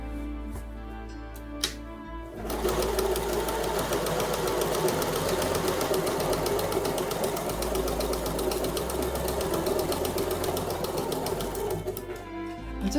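A sewing machine stitches a row of half square triangle quilt pieces, a few handling taps first, then a close, steady rapid needle clatter running about ten seconds before stopping.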